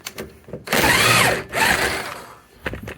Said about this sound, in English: So all I'm doing is just taking the bottom nut off.